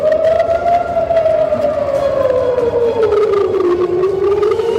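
An air raid siren in Israel drones continuously, its pitch sliding slowly down and back up, loud and steady throughout with faint traffic-like rumble beneath.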